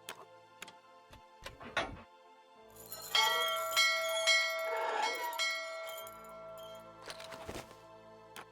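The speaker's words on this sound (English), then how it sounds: "Oh, fine, we'll ring the bell closer to you." Metallic bell ringing in the point-and-click adventure game Syberia Remastered: scattered light ticks and clinks, then a sustained, resonant ringing swell with lingering tones, followed by a few more strikes.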